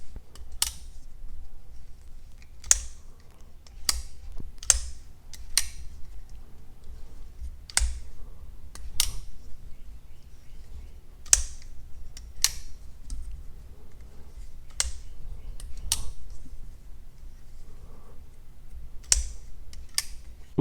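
Civivi Chevalier folding knife with micarta and wood handles, opened and closed repeatedly, giving sharp clicks, taps and soft thuds at an irregular pace, close up and alone with faint room noise.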